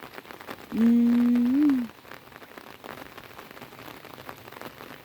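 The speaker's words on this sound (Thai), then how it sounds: "ฝนตกหนัก" Steady broadband hiss of heavy rain falling on surfaces throughout, flooding rural fields in Thailand, with a brief tonal hum or voice-like tone rising near the start.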